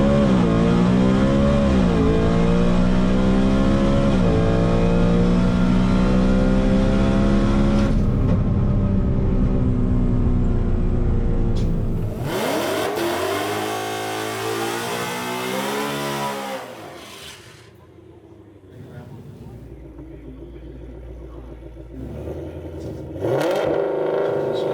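A Shelby GT500 making over 1100 horsepower does a standing burnout at a drag strip, its engine screaming loud and steady with rising and falling revs, then a harsh roar that drops away into quiet before picking up again.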